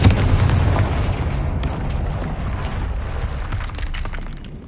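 Confringo, a fiery blasting spell in Hogwarts Legacy, bursts with a loud explosive boom and shattering debris that fades into a rumbling, crackling tail.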